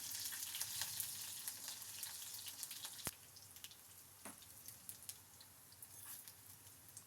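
Mustard seeds, green chilies, cashews and urad dal frying in coconut oil for a tempering, giving a steady faint crackle and fizz with scattered pops and one sharp click, close but quiet, with no voices.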